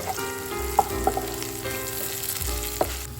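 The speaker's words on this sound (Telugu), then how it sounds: "వీటన్నింటినీ మంచిగా ఆయిల్లో ఫ్రై చేసుకోవాలి." Bottle gourd pieces and peanuts fry in oil with a constant sizzle, while a spoon scrapes and knocks against the pan now and then, close and clear.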